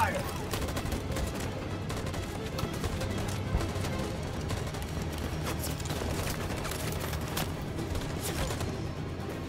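Troops in Detroit: Become Human open fire in a dense, continuous volley of gunshots and rattling automatic bursts, loud and close, with a voice heard over the shooting.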